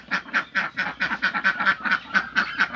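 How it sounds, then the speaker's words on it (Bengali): Ducks on a small village farm quack close by in a rapid, regular run of about a dozen nasal calls, loud and alone. "হাঁস আছে। এই যে একটু বেরিয়ে গেছে। 5টা হাঁস আছে।"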